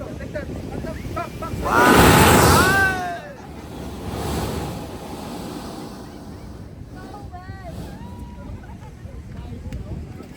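Rough ocean water surging and crashing through rocks with a loud rush early on, then a steady windy roar of surf, in Salalah.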